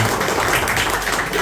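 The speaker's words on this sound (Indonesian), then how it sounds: "Kita boleh beri tepuk tangan untuk" A crowd at a book launch applauds the book's author, producing dense, steady clapping that fills the space throughout, fairly loud and close.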